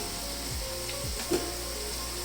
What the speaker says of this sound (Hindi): इस पॉइंट पे मैं एक बड़ा टेबल स्पून मैदे का डाल दूँगी, इसके सेंटर में डाल देंगे, इसको भी साथ ही इसके भून लेंगे